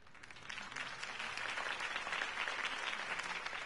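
A crowd claps and applauds steadily throughout, sustained and moderately distant, at a political campaign rally in Batman: The Telltale Series.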